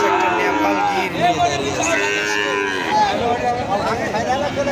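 Cattle lowing at a busy border cattle market, several drawn-out moos overlapping amid crowd chatter and people talking nearby, loud and close throughout.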